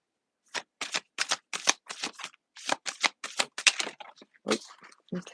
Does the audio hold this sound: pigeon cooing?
no